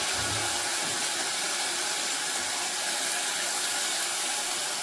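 Mustard seeds hit hot oil in a pan of nearly finished fried potatoes, giving a steady loud sizzling hiss that holds evenly the whole time with no talk.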